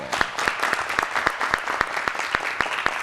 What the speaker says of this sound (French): On s'applaudit très fort.